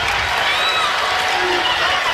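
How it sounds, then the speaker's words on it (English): Kentucky basketball fans applaud and cheer during a college game against Florida, a steady wash of crowd noise heard from a distance under continuous broadcast commentary. "Got an applause for it"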